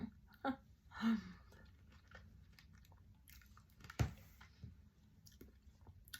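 Close chewing and biting while eating a sweet strawberry dessert: a few soft crunches and moist mouth sounds at an irregular pace, quiet and near.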